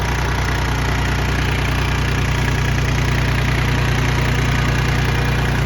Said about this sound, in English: 28 horsepower four-wheel drive smart track.